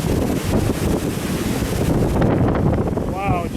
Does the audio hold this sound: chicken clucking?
no